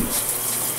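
Water runs steadily from a tap or sprayer during a husky puppy's first bath, a continuous near gushing wash with no talk over it.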